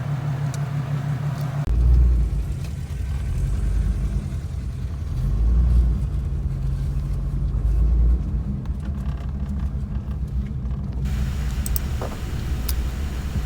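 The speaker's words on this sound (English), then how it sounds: "This is the start of our gully ride. We ride up a gully" A jeep crawls up a desert gully on aired-down tires, its engine a steady loud rumble throughout with a few heavier surges and low thumps, no talking.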